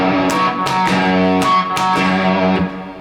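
Distorted electric guitar chugs out a two-note riff, a loud, gritty, repeating pattern of sustained notes with sharp picked attacks and no talking.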